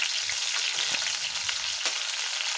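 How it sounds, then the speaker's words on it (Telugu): Curry leaves and green chillies fry in hot oil with seasoning spices, giving a steady, close, crackling sizzle with a few sharper pops and no talking. "ఇవన్నీ ఆయిల్లో మంచిగా ఫ్రై చేసుకోవాలి"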